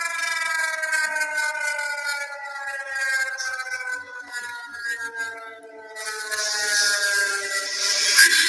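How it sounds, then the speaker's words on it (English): San Francisco's outdoor emergency alert siren, mounted on a pole, wails in a long rising and falling tone that sustains loudly outdoors for several seconds with a slight swell near the end. "San Francisco is now working on bringing back its outdoor emergency alert"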